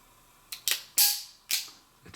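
Smith & Wesson 686+ seven-shot .357 Magnum revolver with internal lock being dry-fired double action, four or five sharp, crisp trigger clicks at uneven intervals, close and loud with a quiet gap between each, no speech.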